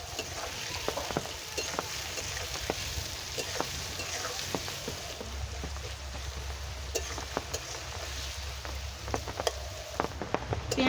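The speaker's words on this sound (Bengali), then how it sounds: "পেঁয়াজটা ভাজা ভাজা হয়ে এসেছে" Chopped onion frying in a pan gives a steady crackling sizzle, broken by repeated scraping knocks as it is stirred, with no voices.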